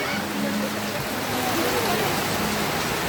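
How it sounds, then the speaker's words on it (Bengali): Steady, dense hiss of heavy rain pouring down throughout in a village, with a faint low hum underneath. "বাইরে প্রচুর বৃষ্টি হচ্ছে"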